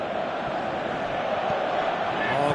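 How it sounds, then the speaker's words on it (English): Stadium crowd roaring in the PES 2018 football video game, a broad sustained wash of cheering and murmur, loud and steady, with commentary voices over it. "you can feel and hear how the crowd are reacting to all of this"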